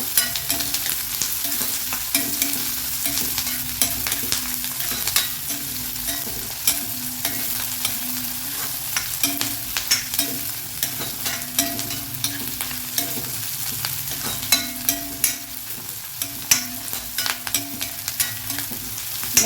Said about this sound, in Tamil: இப்போ நான் கேரட்டும் பீன்ஸ் ஆட் பண்ணிக்கிறேன் ஆட் பண்ணி ஒரு அஞ்சு நிமிஷம் நல்லா ஆயிலில் வதங்கட்டும்